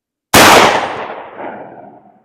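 A single loud, close gunshot fires a Sterling mini slug, with a sharp crack that trails off in a rolling outdoor echo.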